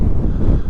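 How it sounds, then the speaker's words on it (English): Brief, heavy low rumble of wind buffeting the microphone on a road between Otley and Harrogate, near a KTM 890 Adventure motorcycle, a constant blustery roar with no voices. "It's pretty windy today"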